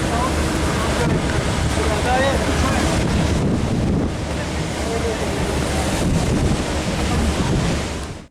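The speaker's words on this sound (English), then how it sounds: "It was hot and windy, which caused a lot of dust to kick up." Strong, steady wind on a hot, dusty day at the Newport Workshops open day, roaring and buffeting the microphone throughout, a constant broadband rush with low rumble and no pauses.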